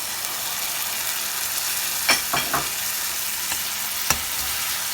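Onions sautéed with salt sizzle steadily in a pan as tomato puree goes in, a continuous close frying hiss broken by a few sharp clacks of stirring around the middle and near the end.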